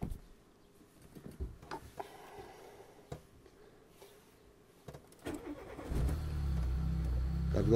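Quiet clicks and shuffles, then a Volkswagen Golf 3 engine cranks and catches, settling into a steady low idle; a bird calls faintly in the background.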